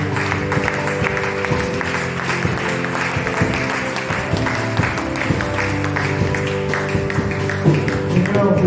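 A church congregation claps to acclaim the Lord, a steady spread of hand claps and taps mixed with sustained music, voices and crowd noise filling the room throughout.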